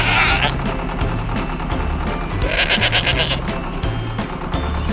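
A goat bleats loudly and repeatedly in drawn-out wavering calls, set against a steady rhythmic music bed.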